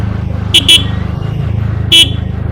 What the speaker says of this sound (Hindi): पता नहीं हॉर्न में क्या हो रहा है